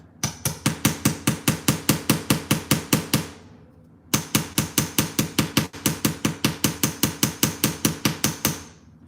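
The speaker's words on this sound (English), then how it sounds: "just gonna start hammering" Rapid, evenly spaced metallic hammer strikes on a metal earring blank resting on a steel block ring out close by in two long runs of about eighteen blows each, separated by a brief pause.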